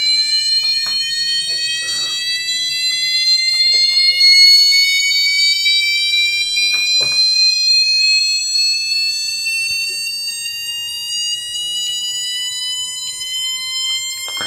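An Arduino-driven passive buzzer sounds a loud, piercing electronic tone that climbs slowly and steadily in pitch, heard alone and close.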